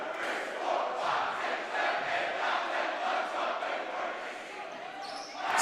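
A loud home crowd roars and cheers continuously at a varsity high school basketball game in a gym, the din swelling and dipping throughout with a commentator's voice running underneath.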